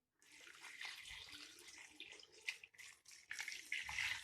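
Water pours steadily into a cooking pot of lentils for a daal chawal recipe, a close, splashy rush that rises and falls briefly without talk.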